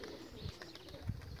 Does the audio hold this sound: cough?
no